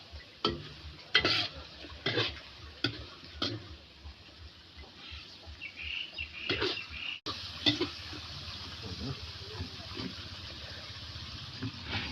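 Catfish stir-fried with kaffir lime in a pan, loud scraping stirs and steady sizzling frying, with bursts of spatula strokes over a continuous hiss.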